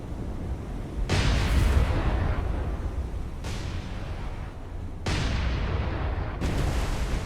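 Naval guns firing armor-piercing rounds in the naval combat game War on the Sea, heavy booming blasts at about 1, 3.5, 5 and 6.4 seconds over a continuous low rumble, with no talk.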